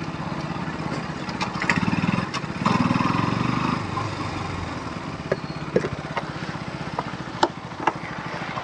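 A KTM RC 200 BS7 motorcycle runs close by, its engine and exhaust giving a steady buzzing idle that swells into two louder revs early on, then settles back to a low, even drone.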